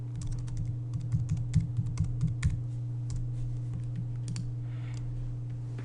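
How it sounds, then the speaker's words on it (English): Typing on a computer keyboard while filling in a Microsoft Word document, a steady run of close, crisp key clicks in bursts that thin out toward the end, with no talking. "type in your email address,"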